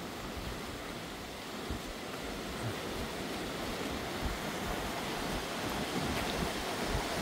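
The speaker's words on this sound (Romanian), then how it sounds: "văd apa curgând pe aici așa în șuvoi mai serios" Mountain stream rushing steadily along a hiking trail toward the Lotrișor waterfall in Romania's Căpățânii Mountains, a continuous close broadband wash of water with no voices.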